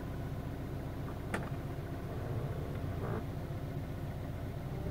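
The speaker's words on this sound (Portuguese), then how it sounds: "O carro tá funcionando, tá?" A Hyundai HB20 car engine idles with a steady, low mechanical hum, recorded close up with a couple of faint clicks and no voices.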